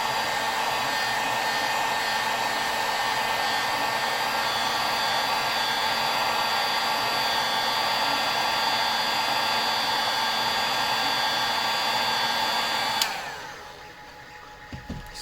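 A heat gun runs steadily at close range, blowing hot air evenly over a part to soften it for molding, a constant loud whooshing whir with a high whine that cuts off abruptly near the end.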